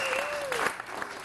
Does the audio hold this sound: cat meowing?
no